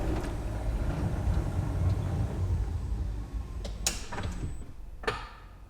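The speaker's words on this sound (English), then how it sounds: "We'll open it back up. So sliding door open test." A car's power sliding door running during a diagnostic scanner test; a steady motor hum and rumble while the door travels, then a few sharp clunks and latch clicks as it finishes, close by.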